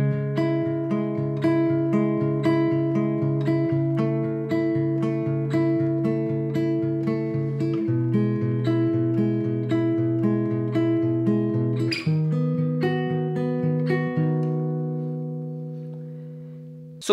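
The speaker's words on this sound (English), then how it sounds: "Now, the chord progression I was playing sounds like this." A guitar rings out a chord progression with open strings, each chord sustained and strummed or picked in a steady rhythm. It is close and clean with no voices, and the final chord fades away.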